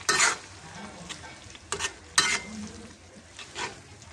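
Dried fish (shutki) sautéing in a spiced masala in a pan, with a few sharp bursts of sizzle and scraping stirs at irregular intervals over a low background hiss, no talk.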